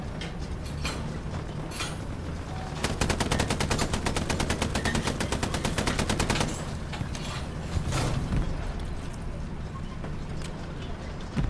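Rapid automatic gunfire from the WWII shooter Hell Let Loose rattles in a dense, fast burst for several seconds, with scattered shots and battle noise before and after, fairly loud in a busy combat mix.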